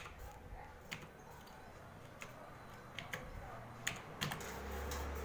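Quiet clicking on a computer keyboard while a captcha is entered on an online admission form: sparse, irregular keystrokes over low room noise, with no talking.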